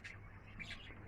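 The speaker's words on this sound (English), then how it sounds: "All the birds made it back." Young homing pigeons back at their loft after a 15-mile toss give two brief, faint squawking calls in quick succession against a quiet background.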